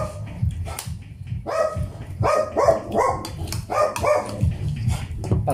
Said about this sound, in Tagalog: Kasi may dumaan na aso.